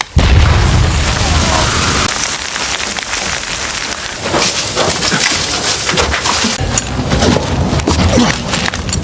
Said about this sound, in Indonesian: mereka pun langsung bersiap untuk meledakkan dasar lorong